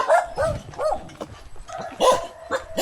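Several dogs bark and yip in short repeated bursts at a home on arrival in the Bicol Region of the Philippines, loud and close, with a whimper mixed in.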